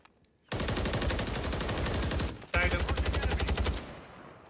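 Sustained automatic gunfire in the video game Call of Duty Warzone on Rebirth Island, loud rapid bursts running almost continuously, a brief pause, then another long rattling burst that fades out.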